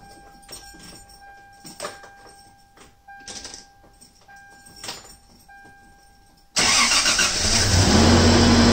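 A 1996 Toyota Tacoma 4x4 truck engine is started: a few clicks and chimes, then the engine suddenly catches and roars loudly and steadily, close by.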